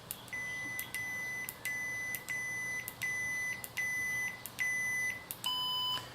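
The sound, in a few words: lightsaber volume adjustment beeps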